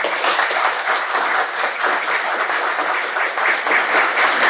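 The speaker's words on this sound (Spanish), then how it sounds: "por fuertes aplausos para él" An audience applauds warmly at a literary panel discussion on Peruvian narrative, with a dense, steady burst of clapping that holds at full strength for several seconds and has no voices over it.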